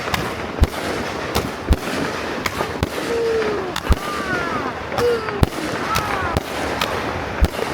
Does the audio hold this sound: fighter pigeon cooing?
no